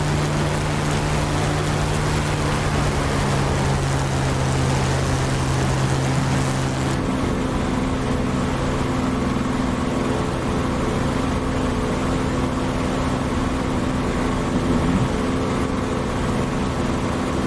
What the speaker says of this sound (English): I couldn't understand what you said because of my engine sound